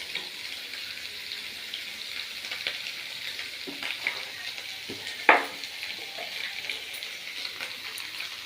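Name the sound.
stirring potatoes with salt in a pan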